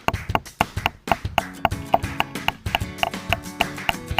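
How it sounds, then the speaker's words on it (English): A hammer strikes metal underwater during a dive to install a boat lift, giving a rapid, steady run of sharp, close taps. A second hammer is faintly audible in the background. "See my hammer, I'm hammering."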